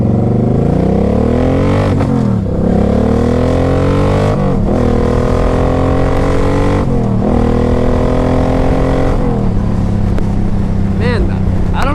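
A 2006 Suzuki Boulevard C50T cruiser motorcycle under way, its engine droning steadily and rising and falling in pitch through several gear changes and revs, loud and close, with wind noise throughout.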